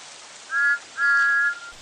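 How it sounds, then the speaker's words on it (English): Two steam engine whistle blasts, a short one then a longer one, over a soft hiss of background noise. "Then she heard a pair of familiar whistles."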